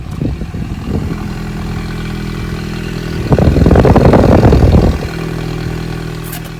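A 2017 Chevrolet Volt LT's engine runs right after start-up, a steady, low, close idle hum that swells for about two seconds in the middle before settling back.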